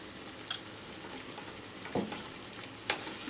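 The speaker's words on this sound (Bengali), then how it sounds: "একটু কষিয়ে নেব।" Spice paste with turmeric and a little salt cooking in oil for Kolkata-style sorshe pabda fish curry, a soft steady sizzle broken by a few scraping stirs.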